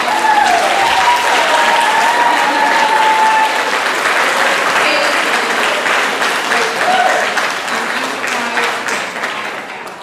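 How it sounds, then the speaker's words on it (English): A band banquet crowd gives a big, loud round of applause, dense clapping sustained for ten seconds with cheers and raised voices mixed in, tapering a little at the end. "he deserves a real big round of applause"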